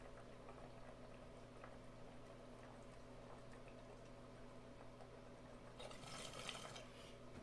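Water bubbles steadily in a bong, a soft continuous gurgle that swells into a louder, brighter rush near the end, with no talking.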